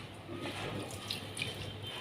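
Water poured from a tap into a cooking pot holding mallow leaves and garlic cloves in a home kitchen, a soft steady trickling stream, faint and close, with no talk.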